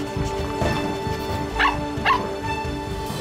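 A cartoon puppy yips and barks in short, high, bright bursts over a steady musical background, with a few whimpering notes among the barks.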